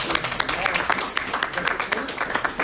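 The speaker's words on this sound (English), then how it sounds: "So let's have a round of applause." A small audience at an executive coaching session claps in a scattered patter of distinct hand claps, with voices talking over the clapping.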